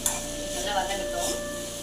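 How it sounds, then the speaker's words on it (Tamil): Onion, tomato, coriander, mint, garlic and tamarind sauté over a low flame for a chutney, a soft steady sizzle close by with light stirring scrapes in the pan. "சேர்த்துட்டு அப்படியே வதக்கி விடணும்."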